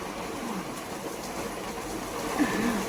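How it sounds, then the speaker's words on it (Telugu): Rain falling steadily in Vinukonda, a soft continuous hiss that stays even throughout with a slight swell near the end, with no voices. "వాన పడుతుందని"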